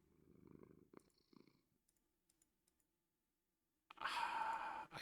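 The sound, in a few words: cat purring in GregTech New Horizons Minecraft video game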